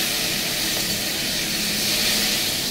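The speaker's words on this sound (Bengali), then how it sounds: "পটলটা একটু ভেজে নিলাম" Pointed gourd (potol) frying in a pan, a steady dense hiss of sizzling oil that stays even and continuous throughout.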